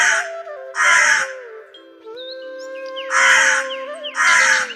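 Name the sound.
crow cawing loudly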